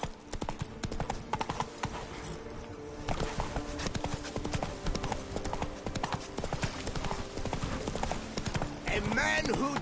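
Horse hooves clip-clop in a steady rapid rhythm through The Witcher 3 game world, loud and continuous over background game sounds and music, with a brief whinny near the end.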